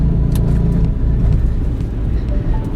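Heavy vehicle towing a 1967 VW Bus frame as it turns into a driveway, with a loud, steady low engine rumble and road noise running throughout.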